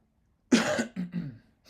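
An adult coughs indoors: one harsh, loud cough burst followed by two shorter, softer coughs in quick succession, close to the microphone, with no talk.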